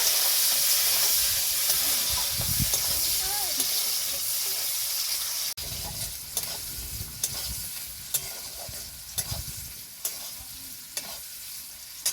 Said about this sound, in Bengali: দিয়ে দেবো কেটে রাখা পেঁয়াজ, পেঁয়াজটাকে লাল করে ভেজে নেব।